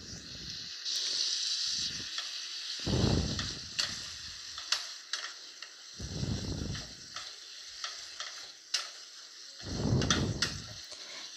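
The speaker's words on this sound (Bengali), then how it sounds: "কিছুক্ষণ এইভাবে মশলাটাকে কষাতে হবে" Spice paste fries in a pan for a fish roe dish, giving a soft, crackly sizzle with intermittent stirring scrapes and deeper rumbling swells, fairly quiet and close.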